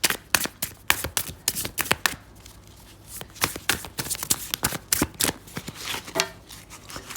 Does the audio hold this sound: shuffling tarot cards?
yes